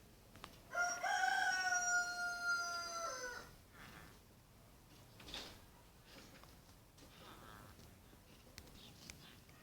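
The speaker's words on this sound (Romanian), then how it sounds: "Asta cu cocoșul nu termină." A rooster in the Minecraft video game gives one loud, drawn-out cock-a-doodle-doo over faint background noise, followed by quieter scattered clucks and clatter.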